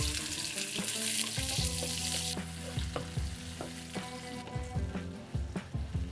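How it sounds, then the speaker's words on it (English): Carrots fry in a hot pan with a steady, close sizzle that thins out partway through, while tonal background music plays throughout. "When the pan is nice and hot, the first thing is we'll cook the carrots because this would take a little longer."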